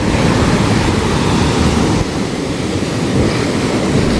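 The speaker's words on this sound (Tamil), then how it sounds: "ஸோ இப்போ வந்துட்டு கடல் நல்லா மேலே வந்துட்டு எப்படி இருக்குன்னு பாருங்கள்" Rough, off-season sea surf at Mirissa Beach, Sri Lanka, roars as a continuous loud wash with wind buffeting the microphone, briefly dipping midway before surging again.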